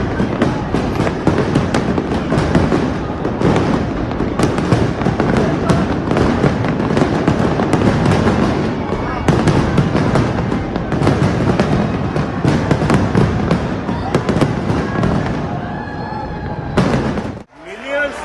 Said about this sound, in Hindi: ये आतिशबाजी का मुजाहरा रखा गया है यहाँ पर